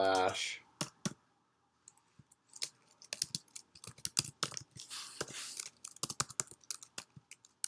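Computer keyboard keys clatter in quick, uneven bursts as code is typed at a desk, with short pauses between runs of clicks, close and fairly quiet.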